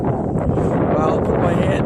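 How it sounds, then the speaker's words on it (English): Strong 15 mph wind at 32 degrees buffets the microphone outdoors, a steady loud rumbling roar that holds through the whole moment without letup. "We got a 15-mile-an-hour wind right now."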